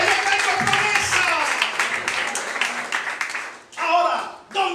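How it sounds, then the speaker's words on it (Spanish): A church congregation claps and cheers in praise during a Spanish-language service, a loud, busy patter of hands under raised voices, briefly dropping away before a final burst. "Alguien le da un aplauso al Señor."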